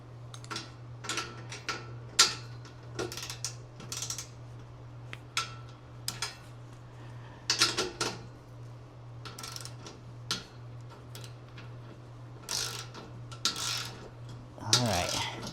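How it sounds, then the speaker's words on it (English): Torque wrench tightening 13 mm bolts on the running boards of a 2025 Chevy Silverado 2500 HD, giving a series of sharp, close ratcheting clicks in uneven bursts over a steady low hum, with no talking. "But let's go ahead and torque these down."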